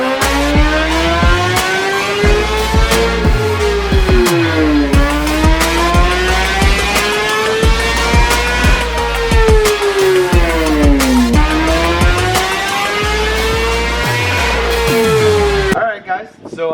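A 2018 Suzuki GSX-R1000R inline-four sport bike is revved on a dyno during warm-up, its loud engine note rising and falling in several repeated sweeping pulls before cutting off abruptly near the end.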